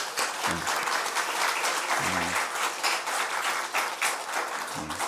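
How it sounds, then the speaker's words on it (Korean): Applause from the congregation at a pastor's installation ceremony in a church, steady dense clapping filling the whole stretch at close range, with a few brief low murmurs underneath. "자, 박수 한번 쳐보겠습니다."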